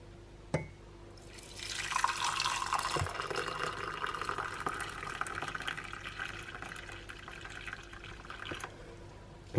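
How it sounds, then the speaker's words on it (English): Boiled milk or water poured into a mug over chocolate truffles, a soft continuous liquid stream lasting several seconds at close range, framed by a couple of small clinks. "then we'll just pour over the boiled milk or water"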